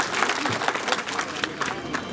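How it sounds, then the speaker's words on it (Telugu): A crowd at a village meeting for a road-works foundation ceremony claps steadily and loudly, a dense continuous patter of applause throughout. "గట్టిగా చప్పట్లు కొట్టండి కలెక్టర్ గారు."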